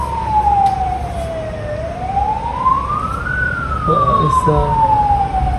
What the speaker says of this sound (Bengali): চারিদিকে সব জাম, ওখানে অ্যাম্বুলেন্স আটকে আছে, সেও আসতে পারছে না।